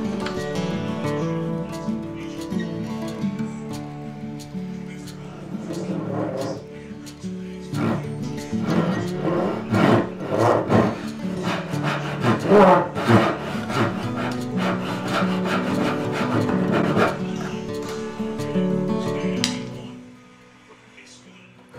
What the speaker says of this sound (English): Not really the best with a coping saw, but I did what I could.